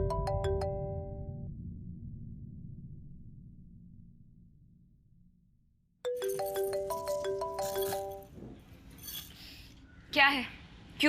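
A telephone rings after a call is dialed, two short bursts of electronic ringtone tones with a gap between them, with a voice and some clinking near the end.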